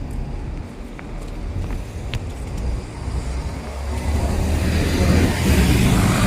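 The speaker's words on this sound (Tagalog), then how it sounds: "Yan yung mga bus. Daming bus dito." Buses and traffic roll along a busy street in the UAE, a continuous rumbling engine wash that grows louder toward the end as a heavy vehicle approaches close by.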